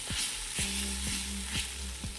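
Gongura (sorrel) leaves wilt in hot oil for chutney, making a steady, close hiss of frying with soft, evenly spaced pulses over a low hum.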